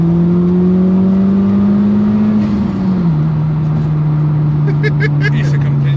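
Engine drone from inside a Honda Civic Type R, a steady loud hum that shifts pitch slightly as the revs change, heard from the passenger seat with road noise underneath.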